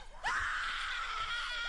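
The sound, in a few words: blood-curdling scream in creepypasta video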